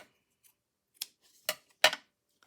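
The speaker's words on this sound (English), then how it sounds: "so let's cut this." Scissors cutting ribbon or paper for a woven journal pocket, three or four sharp, close snips spaced about half a second apart, growing louder, in otherwise quiet surroundings.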